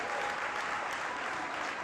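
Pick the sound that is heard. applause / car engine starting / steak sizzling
applause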